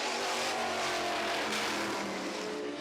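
A V8 Formula 5000 open-wheel race car flashes past a slower car on track, its engine a steady loud roar that blends into a broad, continuous wash of noise with no talk over it.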